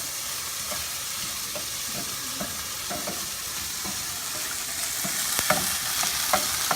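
Garlic and beans fry in a pan with a steady close sizzle and crackle, scattered pops and scrapes growing a little louder toward the end, no talking.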